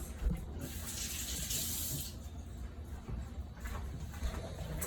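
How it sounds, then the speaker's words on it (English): A kitchen tap runs into a sink as hands are rinsed, a soft continuous splashing hiss that swells and fades with the movement, with no talking. "And rinse the hands."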